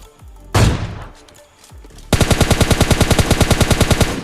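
Gunfire from bots in a mobile battle royale game: a single sharp shot, then a fast, steady burst of automatic fire continuing loudly to the end.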